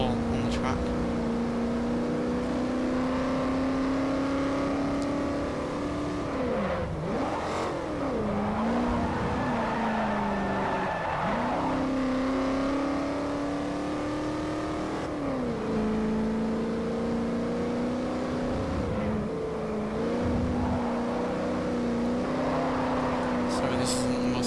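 Racing car engines in Forza Motorsport 4 during a track race: a sustained, loud engine drone that rises steadily in pitch through each gear and drops briefly at shifts, with someone talking over it.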